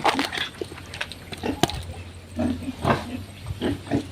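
Pigs grunting and oinking in short, irregular bursts, close by, with faint background rustle between calls.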